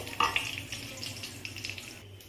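Bay leaves, whole cumin and dried red chilli sizzle in hot oil in a cooking pan as they are stirred, giving a soft, steady crackle with a few sharper pops near the start.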